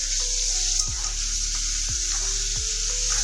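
Drumstick pieces and potatoes frying in a pan, a dense continuous sizzle close up with a few faint scrapes, no voices.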